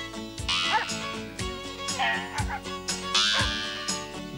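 Dogs bark in short yappy bursts in an Australian Lucky Dog canned dog food TV commercial from 1993, several loud barks and yips overlapping a music jingle.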